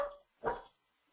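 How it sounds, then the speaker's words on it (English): A dog barks from a computer's speaker, two short sharp barks in quick succession, close and fairly loud, with silence after. "There's a dog in this computer somewhere."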